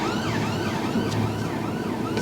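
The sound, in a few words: ambulance siren passing behind a learner car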